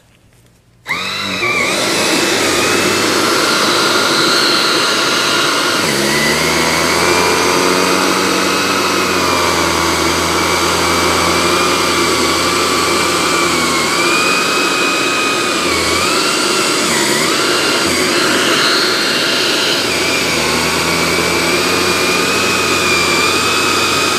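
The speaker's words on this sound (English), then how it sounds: "now we're going to clean this side of the couch with the shark" A Shark Apex vacuum with a motorised pet tool runs steadily on a couch. A loud, continuous whine starts abruptly after the first second, with a drifting pitch as the tool moves across the fabric.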